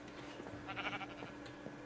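A sheep bleats in the Minecraft video game, one soft wavering call over a faint steady background.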